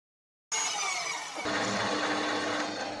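A piece of aluminium is machined into the core of a wheel spacer for an XR400 motorcycle: after a moment of silence, a steady, loud whining cut starts up, then deepens partway through and keeps running.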